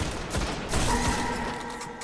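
Burning Eye weapon fire in Destiny during a Vault of Glass raid, heard as a few sharp, loud gun blasts over dense game effects and a sustained tonal hum.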